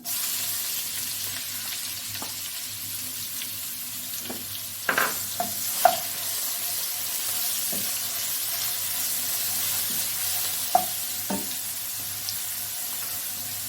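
Ginger-garlic paste sizzles in hot oil with bay leaf and cumin for a spinach chicken curry, a steady close frying hiss broken by a few sharp clinks of stirring.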